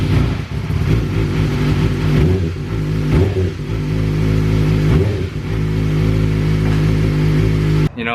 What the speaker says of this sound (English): And in other news, my bike starts.